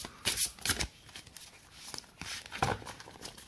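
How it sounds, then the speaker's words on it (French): Tarot cards being shuffled by hand before a reading, several quick riffling bursts with soft papery slaps and pauses between them, close and fairly quiet with no talking. "Alors, je vais faire mon tirage."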